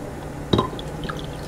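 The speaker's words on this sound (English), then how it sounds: "So I'm going to just keep adding more water." Water trickles and drips into a pot of uncooked rice being filled for cooking, with one brief splashy pour standing out near the middle against a quiet background.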